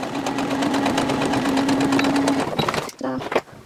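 A sewing machine runs steadily while stitching a foundation paper pieced quilt block, a fast, even whir that stops after about two and a half seconds, followed by brief handling noises; a voice talks over it.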